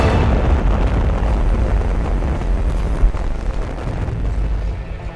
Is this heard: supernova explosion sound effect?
yes